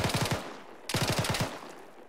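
Gunfire in the military video game Arma 3, crisp and close: two rapid bursts of about four to five shots each, separated by a short pause, with a clean crack on each round.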